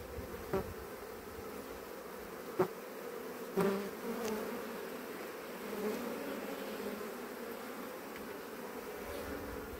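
A honeybee swarm buzzes steadily in a soft, continuous drone, with a few louder bees passing close by.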